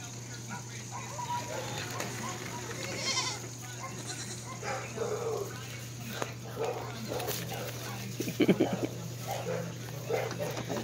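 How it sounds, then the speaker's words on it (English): Five-month-old Nigerian dwarf goats bleat repeatedly at night, their calls coming at varied distances over a steady electrical hum, with people talking among them. "They're dwarf Nigerians, Nigerian dwarf goats."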